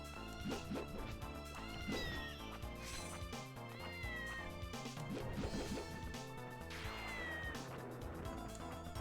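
A cat in the video game Order of Ecclesia gives several clear, drawn-out meows of rising and falling pitch, heard loudly over busy in-game music and effects.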